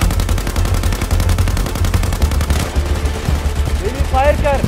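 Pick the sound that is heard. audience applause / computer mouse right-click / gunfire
gunfire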